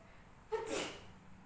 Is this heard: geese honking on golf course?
no